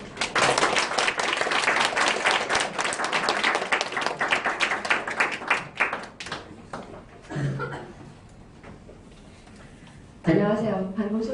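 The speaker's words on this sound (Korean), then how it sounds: "여러분들의 박수와 함께 모시도록 하겠습니다" An audience at a Korean lecture applauds to welcome a speaker, with brisk, dense clapping for about six seconds that then dies away. A voice begins talking as the clapping fades.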